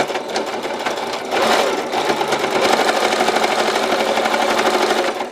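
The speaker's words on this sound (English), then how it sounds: "we're going to stitch that corner just like we did all the other corners" A sewing machine runs in fast, steady bursts while stitching the corner of a mini quilt, loud and close with a brief pause and change in pace near the middle.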